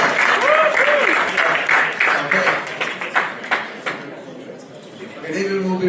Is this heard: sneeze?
no